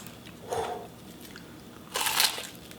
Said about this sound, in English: Just hear how crunchy that is.